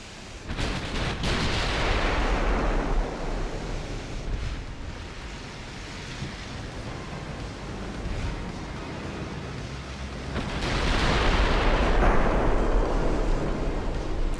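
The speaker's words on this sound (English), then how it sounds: "Fire on the cruiser." Naval guns of warships fire on a cruiser in Ultimate Admiral: Dreadnoughts, a steady roar of booming salvos with surging broadband rumble, swelling again near the end, with no talk.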